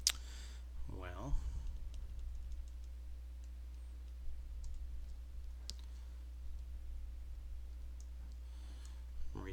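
Sparse, quiet keystroke clicks from a computer keyboard tap away at an irregular pace, with a muffled voice briefly at the start.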